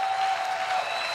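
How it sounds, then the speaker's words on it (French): Church congregation applauding during an evangelical service, a steady wash of clapping from many hands throughout. "Est-ce qu'on ne peut pas acclamer pour ce qui se passe?"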